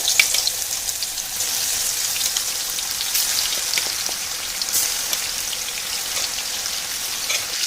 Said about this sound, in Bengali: এবার চিকেনগুলো আমি ফ্রাই করে নেবো